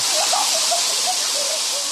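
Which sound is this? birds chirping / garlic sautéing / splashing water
splashing water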